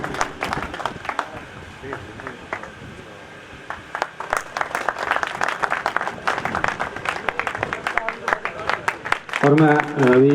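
Applause from an audience at a welcome ceremony, mixed with a crowd and voices, continuing steadily for about ten seconds before a voice with a tonal sound rises near the end.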